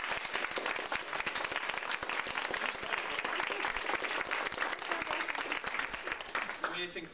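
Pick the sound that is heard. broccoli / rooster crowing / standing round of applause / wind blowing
standing round of applause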